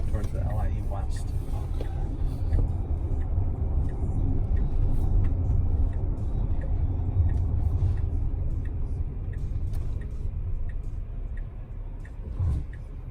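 Cabin of a 2019 Tesla Model X electric car driving on the road, a low steady tire and road rumble with faint ticking, while someone talks over it for most of the stretch.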